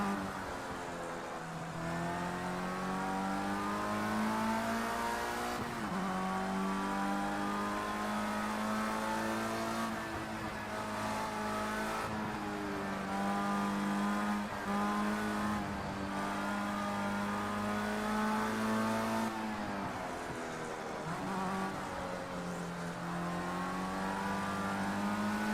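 A race car engine in Project Cars 2 drones and revs continuously, pitch rising and falling through gear shifts and corners over a long stretch, loud and alone.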